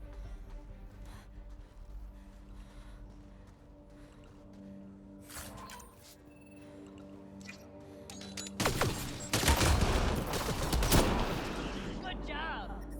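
Gunfire rattles through combat in Mass Effect: Andromeda, with scattered shots building into a heavy, loud exchange in the latter half, mixed with other battle effects and voices talking.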